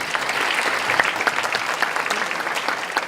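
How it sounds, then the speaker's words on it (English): Warm round of applause from the audience at an award ceremony, steady, close clapping with a few sharper individual claps throughout. "Let's give a round of applause."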